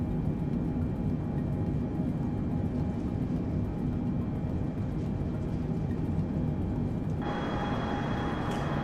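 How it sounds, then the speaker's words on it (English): A Cargolux Boeing 747-8 cargo jet in Microsoft Flight Simulator 2020 rolls down the runway, heard from inside as a steady, dense low rumble that stays constant, with a faint higher hum joining near the end. "trundling down the runway"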